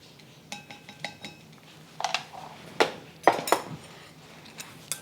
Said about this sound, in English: I'm just going to stir this up and let it marinate